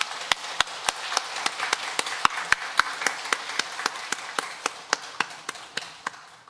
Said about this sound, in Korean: 힘찬 박수로 응원 돌리겠습니다